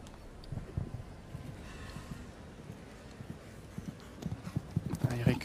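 Hooves of a show jumper at a Grand Prix in Aachen beat out a faint, uneven clip-clop in the distance, quickening near the end, beneath a commentator's voice and arena ambience.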